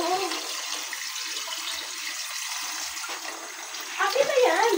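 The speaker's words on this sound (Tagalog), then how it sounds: "lagyan na natin ng tubig galing daw sa Manila" Water said to come from the Marikina River is poured into a cooking pot, giving a steady splashing, trickling wash that rises near the end, while voices talk over it.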